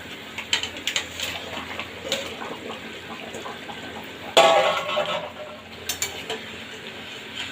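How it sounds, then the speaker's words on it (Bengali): Fried fish and eggplant pieces being stirred gently into a simmering Bengali fish curry, with soft wet scraping and bubbling in a pot and a brief louder stir partway through. "হালকা হাতে নেড়ে চেড়ে ঝোলের সাথে মিশিয়ে দেবো"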